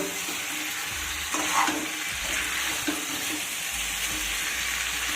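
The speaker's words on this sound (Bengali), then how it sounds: "এবার আমি দেখো ভেজে রাখা আলুগুলো দিয়ে দিচ্ছি এবার আলুটা দিয়েও আরও এক মিনিট মতো আমি কষিয়ে নেব" Fried potatoes stirred into a mutton curry sizzle steadily in the pan, with a continuous hiss and a few scraping stirs.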